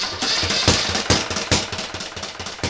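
Experimental research engine model running on a test setup, a steady loud mechanical drone with rapid irregular knocking pulses throughout, heard alone without voices.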